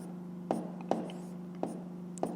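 Pen writing out a fifth-grade maths exercise on paper, a quiet series of four short scratchy strokes over a low steady hum, close and faint.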